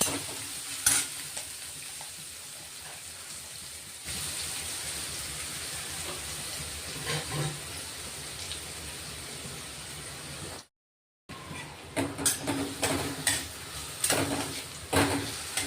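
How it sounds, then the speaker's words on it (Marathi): Finely chopped onion sizzles and fries in hot oil in a pan, a steady crackle with occasional stirring, close and clear with no talk, then a short silent break. "कांदा घेतलाय, बारीक करून घेतलाय चॉपरला, चांगला परतून घ्यायचा आता आपण तेला"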